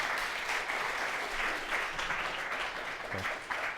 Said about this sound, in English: Hand of applause for Patrick